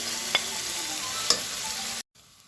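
Duck meat and gizzards sauté in a pan with black pepper, a steady close hiss of frying broken by a couple of light utensil taps before the sound cuts off.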